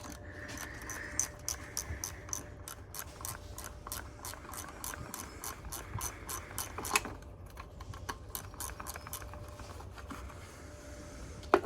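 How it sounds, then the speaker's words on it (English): Steady ratcheting clicks come from a 10 mm socket on a swivel bit undoing a nut on a 2009 Jaguar X-Type 2.0 diesel during EGR valve work, close and even-paced over a low engine-bay hum, with no voices. "a swivel bit enables me to get the nut to undo it"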